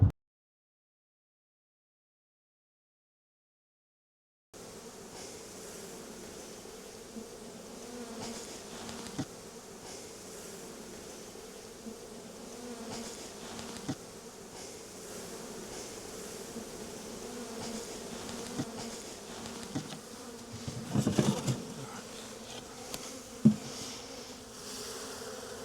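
A honey bee swarm hums in cool 55°F winter weather, a steady, moderately faint buzzing drone after a silent start, with occasional louder passes of bees flying close.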